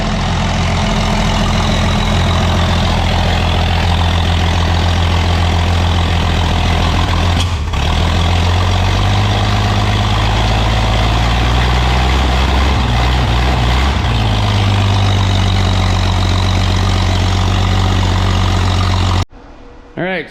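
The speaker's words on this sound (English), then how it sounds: "All right, so I got it to idle." A turbocharged Nifty 250 straight-six engine idles loudly and up close, a deep continuous rumble with a slight wavering in pitch throughout, stopping abruptly near the end.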